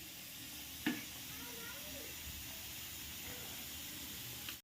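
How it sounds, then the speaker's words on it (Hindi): Food frying in hot oil and being turned over, a soft continuous sizzle with a sharp clack early on and faint vocal sounds beneath. "अच्छे से ये तेल में फ्राई होने के लिए इधर उधर थोड़ा पलटते हैं"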